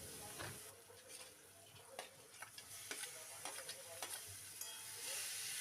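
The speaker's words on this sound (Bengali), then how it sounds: "নেড়ে চেড়ে নিয়ে পেঁয়াজটা একটু ভাজা ভাজা হলে টমেটোটা দিয়ে দেব।" Chopped onion with salt and turmeric fries in a pan for a potol bharta, a steady soft sizzle broken by repeated scrapes and knocks of a spoon stirring close by.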